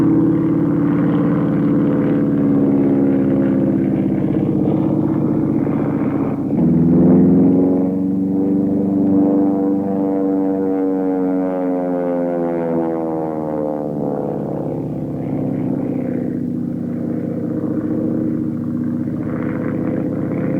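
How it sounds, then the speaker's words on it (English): Vintage triplanes with rotary engines at an air show give a loud, continuous buzzing drone that shifts in pitch as an aircraft passes, then keeps rumbling on without any voices. "Both had rotary engines."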